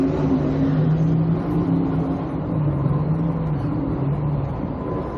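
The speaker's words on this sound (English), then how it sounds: "That'll bring up the clean 1970 model Chevy Chevelle next on the right-hand side, and the 68 model Mercury Cougar on the opposite side of the racetrack." A 1970 Chevy Chevelle and a 1968 Mercury Cougar XR7 race car on a racetrack, a loud continuous engine drone with wavering pitch as the engines rev and hold, rough and steady without talk.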